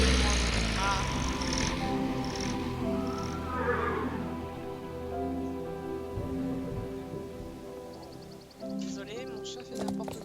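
A house cat meows and caterwauls over a video game's background music and rain-like ambience, repeated cries heard near and clear within an otherwise music-filled stretch.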